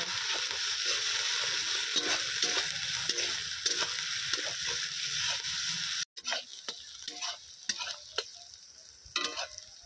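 Garlic, ginger and onion paste fries for mutton curry in a pan, a constant loud sizzle under rapid scraping stirs that continue after a brief cut.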